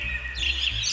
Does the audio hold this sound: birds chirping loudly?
yes